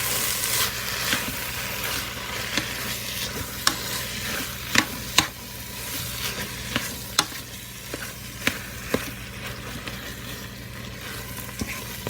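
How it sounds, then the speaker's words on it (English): Chili ingredients sizzle in a hot pan, with a steady frying hiss and a series of sharp spoon scrapes and taps as the mixture is stirred, heard alone without talk. "Now that everything is nice and sauteed and it's all mixed together, that stays hot for a little bit"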